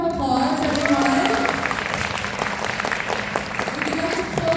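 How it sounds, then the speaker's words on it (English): Audience applause fills a press conference for BENCH with a well-known actor, a steady wash of clapping from a crowd with some voices over it, sustained at an even level throughout. "Let's give a round of applause, everyone."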